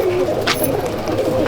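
Champion Andhra and Madrasi pigeons cooing in a breeding room of a pigeon loft in Hooghly: a loud, close, continuous throaty coo, with a brief rustle partway through.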